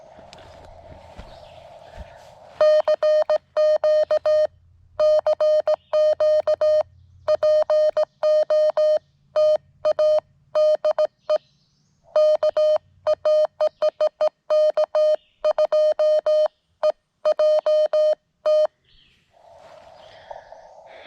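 Morse code CW tones keyed on a single paddle at an outdoor ham radio activation: a loud, steady single-pitch tone broken into rapid dits and dahs for about sixteen seconds, with brief murmurs before and after.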